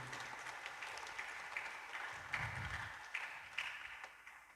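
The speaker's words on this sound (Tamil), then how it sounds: "நாம் கைத்தட்டி அனைவருக்கும் நம்முடைய பாராட்டினை தெரிவித்துக் கொள்வோம்." Congregation applauding during a Christmas Mass in a church in Nangathur, a soft, continuous patter of many hands at a moderate distance with a few louder swells, no speech over it.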